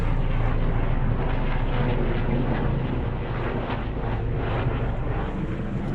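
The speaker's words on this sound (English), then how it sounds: "There's helicopters." A steady, loud engine roar fills the whole stretch, a low rumbling drone of an air ambulance helicopter passing overhead with wind buffeting the microphone.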